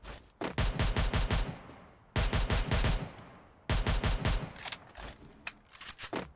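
Gunfire in the Free Fire video game comes as three loud, close bursts of rapid automatic fire separated by brief pauses, followed by a few scattered shots.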